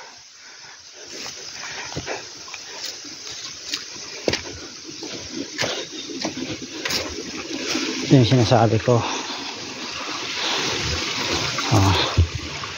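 Water running along a steep, rocky trail, a continuous rushing splash under a voice, with some nearby shuffling and a louder gurgling swell toward the end.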